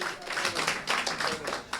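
At a political party gathering, a crowd gives a round of applause: steady, dense clapping from many hands, close and sustained with small swells throughout.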